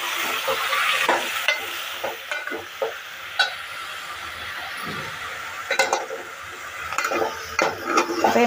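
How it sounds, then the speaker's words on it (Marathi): Mutton pieces are stir-fried in oil with cooked onion and tomato, wet sizzling under repeated spatula scrapes and knocks against the pot, irregular stirring strokes close by throughout. "हे मटण आपल्याला 5 मिनिटं तरी असं जरा खालीवर करून घ्यायचं आहे, म्हणजे तेला कांद्यामध्ये आणि टमाटरमध्ये असं परतून घ्यायचं आहे"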